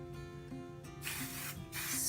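Two short hissing bursts of hair spray from an aerosol can, close by, over quiet background music.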